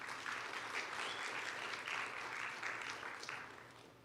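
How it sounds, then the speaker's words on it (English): Applause from a large audience at a tech conference, a steady wash of many hands clapping at a distance that tapers off toward the end. "big kudos and clap for the team, please"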